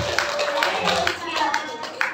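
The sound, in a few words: audience clapping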